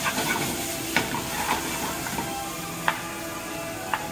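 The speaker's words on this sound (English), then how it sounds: "Now I'm gonna take my rendered down on my cooked sausage, and then I'm gonna add it back to my onion mixture." Cooked, rendered sausage sizzles as it goes back into a pan of onion mixture for a ragu, a close continuous frying hiss marked by a few sharp scrapes of a spoon.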